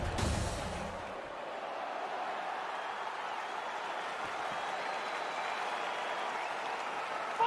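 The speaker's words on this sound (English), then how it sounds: "crowd getting excited as this fight gets underway" Broad, steady roar of an arena crowd cheering in the video game UFC 4 as a fight gets underway, a brief burst at the start settling into a continuous even wash of noise, with no talk over it.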